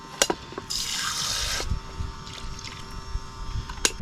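A battery-powered water pump runs at a beach campsite, a steady whirring hum under a burst of gushing water spray, with a few clicks and knocks around it.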